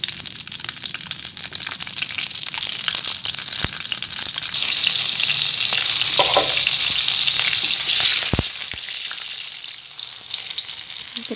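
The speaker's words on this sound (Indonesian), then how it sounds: "Nanti semuanya kita goreng pakai minyak sedikit aja. Kemudian masukin bawang merahnya dulu." Shallots frying in a little oil for sambal terasi, a loud continuous close sizzle with occasional stirring scrapes and clinks, easing slightly toward the end.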